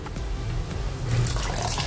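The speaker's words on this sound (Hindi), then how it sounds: "अभी पानी उबलने लगा है।" A pot of water with half a spoon of amchur powder boils quietly on the stove, giving a soft, steady bubbling and hiss with no one speaking.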